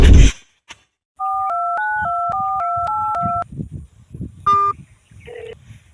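A telephone dialing a number sends a rapid run of steady touch-tone beeps, each key a clean paired tone, followed by a brief ringing tone and faint background noise.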